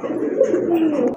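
Capuchine pigeons at a pet market cooing in a short, low, throaty burst, close and fairly loud, with a faint voice nearby.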